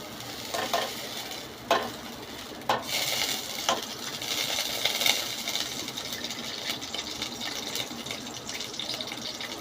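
Ghee crackles and sizzles steadily in a pan on the stove for maida halwa, with a few sharper pops standing out early on, close and fairly quiet, with no one talking.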